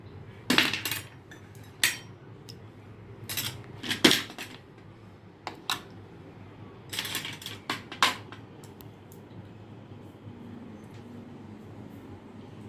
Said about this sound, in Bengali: আইস কিউবটা দিয়ে দিচ্ছি।